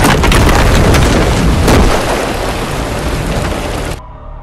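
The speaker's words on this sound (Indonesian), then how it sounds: "bom pun akhirnya meledak dan sebuah ledakan dahsyat itu terjadi di sana" A loud, roaring bomb explosion with heavy rumbling that keeps going for several seconds, then cuts off abruptly.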